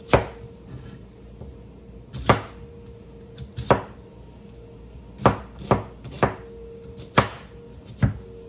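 A knife chops vegetables on a small cutting board, about ten sharp, close knocks spaced irregularly with short pauses between, no talking.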